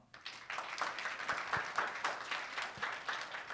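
An audience applauds after a student's lecture, a fairly soft, steady patter of clapping from many hands that lasts the whole few seconds.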